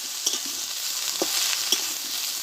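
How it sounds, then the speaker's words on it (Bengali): Cauliflower and mixed vegetables are stir-fried together in a pan for a Bengali phulkopir data chorchori. A bright, steady sizzle carries a few sharp clicks and scrapes from stirring. "সবজিগুলো একসঙ্গে ভালোভাবে কষে নিয়েছি"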